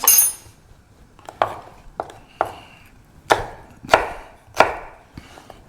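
A knife slices through a tomato on a cutting board: about eight crisp, separate cuts land at uneven intervals, close and clear against a quiet kitchen.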